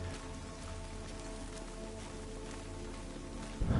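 Rain falling in the video game Returnal, a steady even hiss of raindrops hitting surfaces, continuous and fairly faint, ending in a short low rumble.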